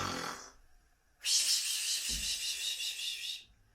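A storyteller's voice imitates snoring in a Catalan bedtime tale, with one long, loud, raspy hissing breath after a brief vocal sound and a short pause.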